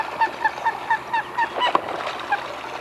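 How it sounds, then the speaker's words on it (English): Coots on a lake call in a close, rhythmic series of short honking notes, roughly ten in a row at a steady pace, with a faint outdoor background. "They're coots."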